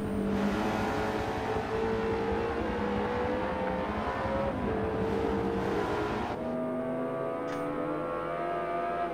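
Race cars on the last lap at Daytona in the Forza video game, a steady engine drone with rising and falling pitch as cars accelerate, continuous and loud with no talk.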